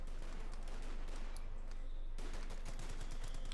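Sustained machine gun and rifle fire from an American rifle squad armed with a BAR in the World War II strategy game Company of Heroes 2 forms a dense, continuous clatter of overlapping shots.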